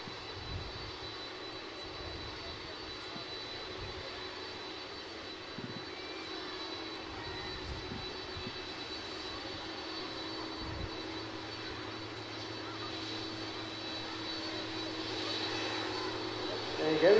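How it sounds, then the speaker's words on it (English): A Boeing 747 airliner, registration G-VROM, taxis past at Manchester Airport, a steady distant jet engine drone with a low rumble that swells slightly toward the end, while a commentator talks throughout. "as the aircraft comes past the runway to start once again"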